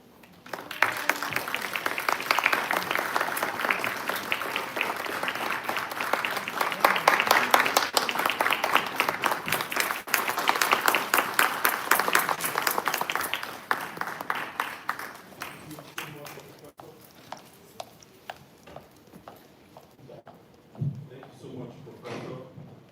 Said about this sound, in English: Another round of applause for our professor.